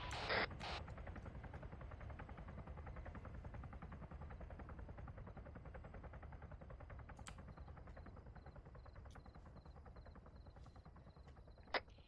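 A helicopter in the Arma game mode Altis Life flies with a continuous faint rotor drone and whine throughout, with a few sharp clicks and cracks scattered over it.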